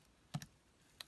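Keys pressed on a calculator while entering a Newton's method formula: a few soft, close clicks, a quick pair and then a single tap, with near silence around them.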